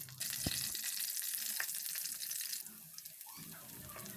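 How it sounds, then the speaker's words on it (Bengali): Chopped onion and garlic hit hot oil in a wok with bay leaves, giving a steady broadband frying hiss with a couple of sharp pops, easing slightly toward the end; no voices. "সেখানে সামান্য তেল দিয়ে আমি পেঁয়াজ কুচি এবং রসুন কুচি দিয়ে দেব"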